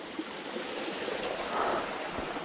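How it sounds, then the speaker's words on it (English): Small waterfall beside a forest trail in the Nantahala Forest, a steady broadband rush of falling water, fairly close and continuous, with no voices. "A little waterfall here."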